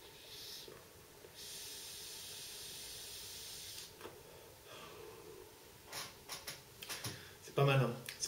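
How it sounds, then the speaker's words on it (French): A Helios clone atomizer being vaped: a long, soft airy hiss of a steady inhale, followed by scattered clicks, breathy exhales and a brief louder burst near the end, all close and fairly faint. "On inhale directement la vapeur au lieu de l'inhaler en deux temps."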